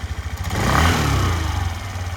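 A Suzuki Address V 125 scooter engine idles and revs briefly, a steady low mid-range engine note with light clatter, close by and alone for about two seconds.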